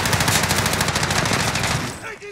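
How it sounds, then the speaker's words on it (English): Rapid automatic gunfire rattles through a Call of Duty Warzone match, a dense, fast burst of shots that runs for about two seconds before stopping, with game effects trailing after. "I'm taking fire!"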